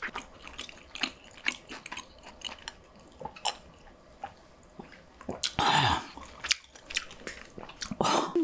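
Close, intimate bites and chewing of white chicken pizza during a mukbang, with crunchy crust snaps and wet mouth sounds in irregular bursts, louder near the end, and no talking.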